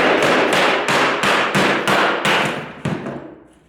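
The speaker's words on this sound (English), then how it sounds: "Might even be able to knock it off with the hammer." A hammer strikes a piece of trim on a hollow internal door, seven loud, evenly spaced knocks that fade slightly toward the end.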